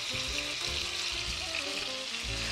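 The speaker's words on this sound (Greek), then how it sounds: "Όσο τηγανίζεται το κρέας μας από όλες τις μεριές" Pork frying in a pan, seasoned with salt after being turned, hisses and sizzles steadily up close with continuous crackling and no voices.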